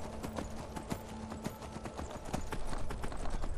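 Horse hooves clip-clop steadily in the video game Skyrim, a brisk even rhythm of hoofbeats that grows a little louder and busier toward the end.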